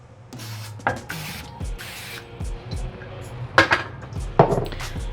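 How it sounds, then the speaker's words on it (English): Several short hissing bursts of cooking spray into small baking pans, separated by light clinks and taps of metal pans on a counter. "I'll just spray 4 of them"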